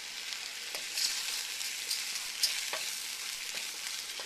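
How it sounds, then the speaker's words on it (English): Orzo and mushrooms sauté in butter in a pan, with a bright, constant sizzle and light scraping stir strokes at irregular moments, close and alone without talk. "Now we're going to saute this together for just about 5 minutes."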